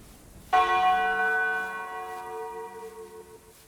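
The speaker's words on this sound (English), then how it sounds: "I thought I heard a bell toll." A single church bell strikes once, sharp and clear, its ringing tone slowly decaying over a few seconds in an otherwise quiet scene.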